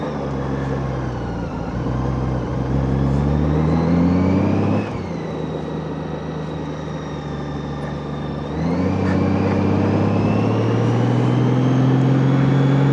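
A Honda F6B Goldwing motorcycle riding up South Mountain Park in Arizona, its engine droning loud and steady, dropping in pitch around a gear change then climbing again, with heavy wind rush and no talking.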